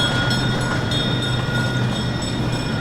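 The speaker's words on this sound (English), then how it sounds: "We're taking our little train ride adventure." A small outdoor ride-on train at a model railroad museum in Gulfport, Mississippi runs with a steady rumbling drone and a constant engine hum, loud and close, with no talking over it.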